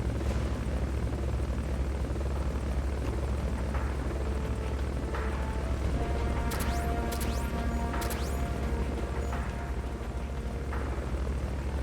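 A Fulton recovery helicopter in the video game Metal Gear Solid Peace Walker drones loudly and continuously with a steady rotor roar, joined by a few brief metallic sweeps midway.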